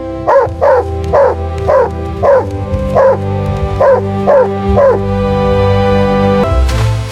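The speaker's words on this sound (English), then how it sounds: "Rocky, keep barking." A dog barks in a steady series of about nine loud, close barks at a regular rhythm, followed by a whimpering, yipping tone at the end.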